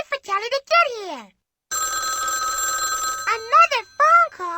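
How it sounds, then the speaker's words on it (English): A telephone rings in the Sesame Street Elmo's World PC game, a steady electronic trill lasting about a second and a half between stretches of animated character talk. "Another phone call?"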